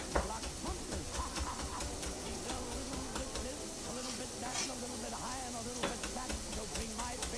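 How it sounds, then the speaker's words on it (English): Shallots frying in a pan with bacon give a steady, close crackling sizzle that runs unbroken throughout, with occasional stirring scrapes mixed into the dense spatter. "Shallots are cooking. Getting some color on these bad boys."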